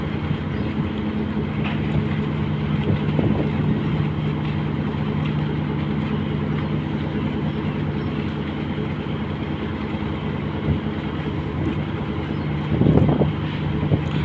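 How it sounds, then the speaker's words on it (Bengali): A steady low engine drone from oil tanker ships on the Jamuna river fills the whole stretch, a continuous mechanical hum with wind noise over it, with no speech. "আসলে প্রচুর পরিমাণ শব্দ এখানে এখানে তেলের জাহাজ আছে এই জন্য প্রচুর পরিমাণ শব্দ আসতেছে"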